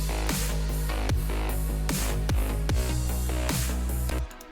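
Lead melody of an electronic track's drop, played on a plucky synth over booming sub-bass and punchy kick drums. The pattern is loud and dense and cuts off abruptly at the end.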